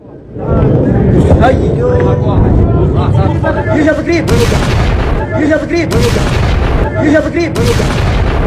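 Blast at a US military base in Jordan: loud, sustained rumbling booms and crackling bursts fill the whole stretch, with sharp impacts recurring, and voices babble faintly underneath.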